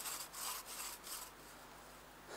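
Wood being sawn by hand, a steady rhythm of rasping back-and-forth strokes, fairly close and continuous, with no talking.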